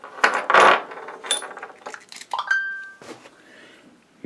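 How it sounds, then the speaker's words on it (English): A metal wrench clanks and clinks against a Singer 192K sewing machine, a few sharp close metallic knocks and a brief ringing tone followed by quieter handling noises. "All right, so we put the wrench on."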